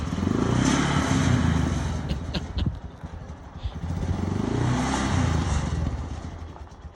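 A Yamaha Warrior 379cc stroker barn kart doing a burnout, its engine roaring loud and close with a sustained rough drone that dips briefly midway before surging again, along with some clatter.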